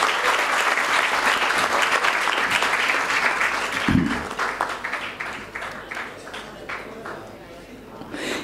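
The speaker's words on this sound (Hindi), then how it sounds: "जरा जोरदार तालियां बजनी चाहिए उनके लिए।" Loud, dense audience applause fills a formal event welcoming an honoured woman guest with a bouquet and shawl, sustained for several seconds before thinning into scattered claps toward the end.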